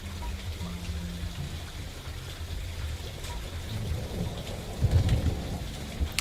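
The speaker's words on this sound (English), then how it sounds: "Yeah, the rain is lovely. It's so relaxing." Rain ambience from the video game The Roottrees are Dead falls as a steady, soft hiss of drops with low rumbling underneath. A heavier thump-like swell rises near the end, and no one speaks over it.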